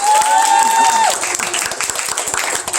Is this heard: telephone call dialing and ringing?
no